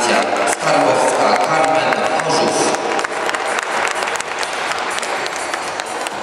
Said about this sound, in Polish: Jeszcze raz brawo od Państwa